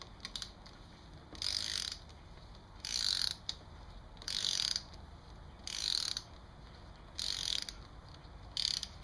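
A ratchet tightens the clutch cover bolts on a Kawasaki Ninja 1000 / Z1000 in a crisscross pattern: six quick bursts of fine clicking, evenly spaced about every one and a half seconds, close and fairly quiet with short pauses between.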